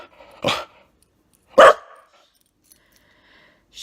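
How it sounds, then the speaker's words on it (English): A dog barks twice, close and loud, about a second apart, with quiet between the barks and nobody talking. "No, don't bark, please. Don't bark."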